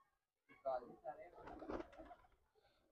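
A pigeon gives a few soft, throaty coos close by, separated by short breaks in an otherwise quiet space.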